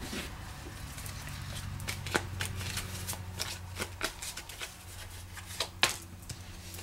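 Tarot cards are shuffled during a reading, a close, quiet run of papery riffling and flicking with sharper snaps, no voices over it.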